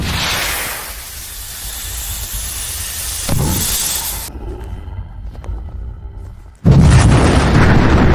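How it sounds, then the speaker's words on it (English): A rocket launcher explosion from the animated film Junk Head, hitting a tree monster: a sharp boom followed by a hissing, rumbling burst that cuts out, then a second loud blast of roaring noise at the end. "a rocket launcher does the job."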